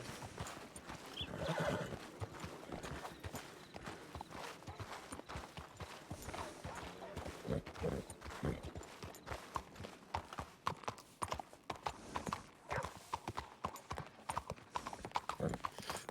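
Horse hooves clip-clopping in a steady walking rhythm throughout, with occasional neighs and whinnies, fairly faint against a noisy outdoor background.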